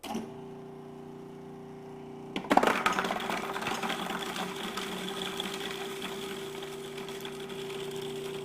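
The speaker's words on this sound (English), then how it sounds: "this is going to allow me to turn the machine on, drop the garlic in, and you're going to see how efficient it is" Cuisinart food processor chopping garlic, a quiet idle hum that jumps to a louder whirring rattle as the garlic drops in, then a steady close motor drone.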